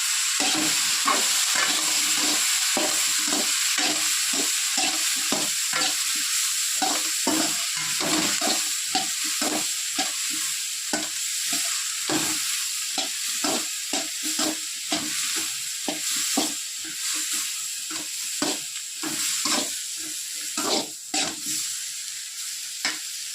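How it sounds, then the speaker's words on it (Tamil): Tomatoes and ginger sauté in a hot pan for chutney with a continuous loud sizzle. A spoon scrapes and stirs in steady repeated strokes throughout, close up and without talk. "வதக்கிட்டு உடனே ஒரு துண்டு இஞ்சி இந்த தக்காளியும் பூரா சேர்த்துருவோம்"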